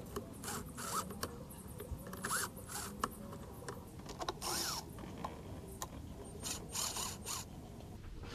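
Ratchet wrench clicking in repeated bursts while undoing 10 mm bolts to remove the intake on a 3.4L Toyota 4Runner during valve cover gasket work, close and fairly quiet with short pauses between runs.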